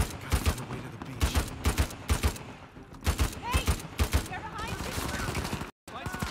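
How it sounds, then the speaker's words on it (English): Gunfire in the video game Uncharted 4, with loud bursts of shots repeating in rapid clusters, layered with in-game commotion and voices, then a brief dropout of silence near the end. "Not if I shoot them."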